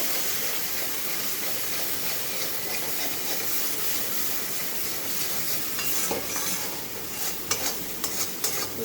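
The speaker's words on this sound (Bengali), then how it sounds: "একটু ভেজে নেব" Banana stem frying in a pan gives a steady loud sizzle and hiss, with scraping stirring strokes growing sharper and more frequent toward the end.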